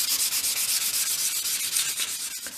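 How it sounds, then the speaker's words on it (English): Wooden dolls house pieces being sanded by hand, a continuous close rasping scrub in quick regular back-and-forth strokes. "So once you've sanded your pieces, just use a soft brush to remove the sanding dust"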